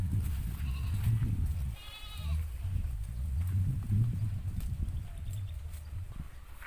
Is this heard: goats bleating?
yes